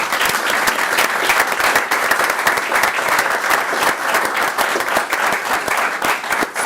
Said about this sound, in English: So I think Autumn deserves a huge round of applause.